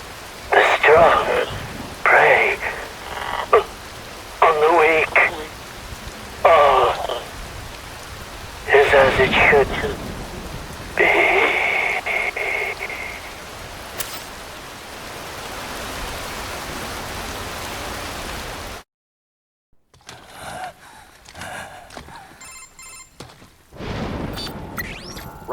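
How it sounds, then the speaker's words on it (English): Steady hiss of rain falling in the Metal Gear Rising: Revengeance video game, continuous under repeated bursts of voices and game sounds, cutting to silence before more scattered effects. "Wind blows, rain falls."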